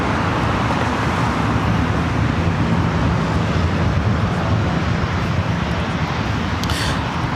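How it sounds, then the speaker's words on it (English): A Delta Boeing 757 airliner taxis for takeoff at LAX, its jet engines producing a steady, loud roaring drone throughout with no breaks. "Delta 757 heading to Boston, heading up here for a north side takeoff"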